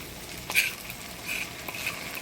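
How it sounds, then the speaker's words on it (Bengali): Ginger, garlic, coriander-cumin and chilli paste with turmeric and salt sizzles softly in a pan for kosha mangsho, a faint crackling fry with a few sharper spatula scrapes and pops, no talking. "দিয়ে দেবো হলুদ লবণ মশলাটা কষাই নিলাম"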